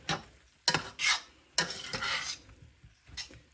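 Brussels sprouts being stirred with balsamic glaze in a pan: a few distinct scraping strokes of a utensil against the pan with a light sizzle, close and fairly quiet, no talking.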